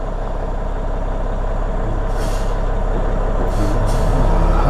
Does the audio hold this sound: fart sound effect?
no